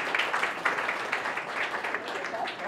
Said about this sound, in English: actually clap again